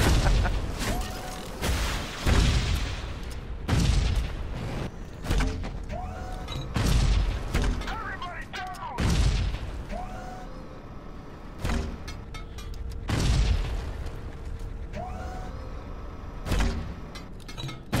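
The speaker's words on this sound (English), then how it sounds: "I just shot a grenade at him." Grenade explosions and gunfire in the video game Shadow Complex, with repeated booming thuds and sharp blasts over a dense, continuous layer of game music and effects.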